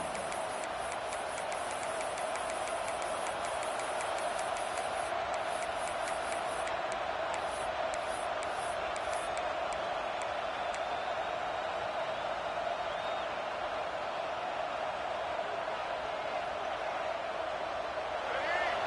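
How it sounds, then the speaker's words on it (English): Stadium crowd noise in the College Football 26 video game: a loud, steady roar that carries through the whole stretch at a fourth-down stop, with a commentator talking over it. "This crowd busting the decibel meter and trying to will a fourth down stop."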